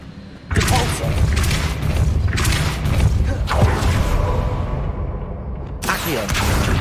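The Depulso force spell goes off in Hogwarts Legacy, a series of heavy booming thumps and mechanical whooshes repeating several times against a rumbling game background, with no one talking.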